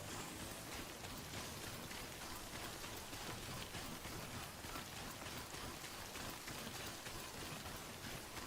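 Steady, dense rain pours in the video game Death Stranding, a continuous broadband hiss of drops on surfaces with no let-up and no voices.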